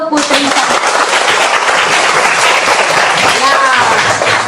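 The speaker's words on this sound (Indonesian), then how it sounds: "Tepuk tangan untuk Putri Samawa." Applause for a child named Putri Samawa in a group of children, with loud, close clapping from many hands filling the moment and a voice speaking briefly near the end.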